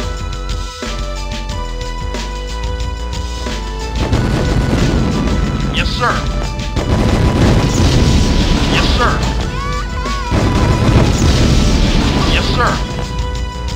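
Ion cannon blasts in a GDI mission video game: deep, heavy booms roll in from about four seconds and repeat in loud bursts over steady game music, with short radio-style voice lines mixed in.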